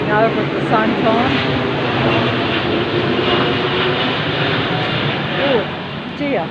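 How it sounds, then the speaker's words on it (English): An airplane passes overhead on a rainy day, a broad, steady roar filling the whole stretch before easing slightly at the end, with occasional faint voice fragments. "plane going over at the same time."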